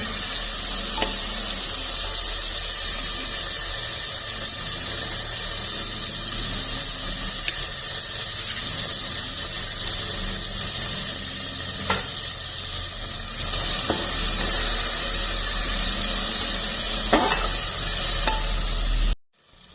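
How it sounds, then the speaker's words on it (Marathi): Tomatoes are sautéed until soft in a pan for a rice dish, with a continuous loud sizzle and occasional sharp scrapes of stirring running for the whole stretch before cutting off abruptly. "आता टोमॅटो थोडे हे मऊ होईपर्यंत आपण परतायचे त्यात एक दोन ते तीन मिनिट"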